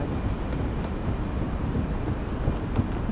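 A train arriving at a station near Portimão, Portugal, rumbling nearby with a low, steady roar and faint rattling of rail cars, continuous and moderately loud.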